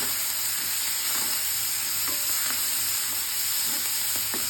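Fenugreek leaves, coriander and green chillies roasting in a pan give a steady close sizzle and fry hiss, with light stirring scrapes at intervals.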